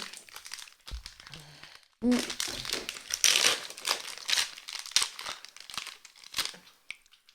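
Crinkly wrapper of a gluten-free financier cake being torn open up close, with sharp rustling, crumpling and tearing bursts in uneven bursts and brief pauses between.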